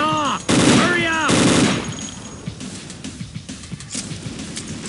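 Automatic weapon fire bursts in Unreal Tournament 2004 during a team match, with rapid loud volleys in the first seconds giving way to scattered shots and clatter under game voices and chatter.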